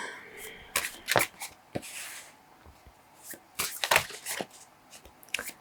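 A slippery tarot deck being shuffled by hand, with quick crisp riffles and card slaps in irregular bursts, close and fairly loud, with brief speech between them.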